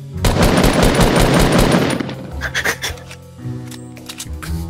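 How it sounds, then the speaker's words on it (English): Fast bursts of automatic gunfire ring out loud and close in a Fortnite Battle Royale match, with rapid rattling volleys at first, then scattered shots and game effects trailing off. "Should I like fire a couple shots so people are like, oh, there's people over there."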